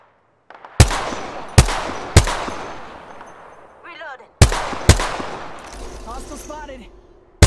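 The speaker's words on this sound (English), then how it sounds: "They're shooting at me." Gunfire in the Apex Legends video game: a series of loud, sharp single shots spaced about a second apart, each with a ringing tail, along with short chirping sounds and brief bursts of talk.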